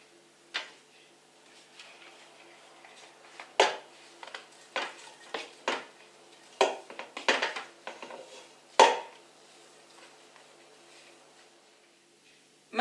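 A utensil scrapes and knocks against a pan of bread pieces with garlic and oil in scattered strokes, with quiet gaps between the clatter.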